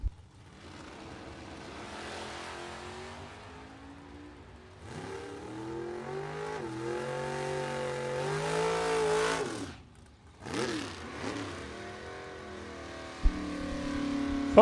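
Mustang and Camaro racing side by side at a bracket drag race event, engines droning and rising in pitch through long gear pulls, then a brief drop and a second surge, heard from a distance.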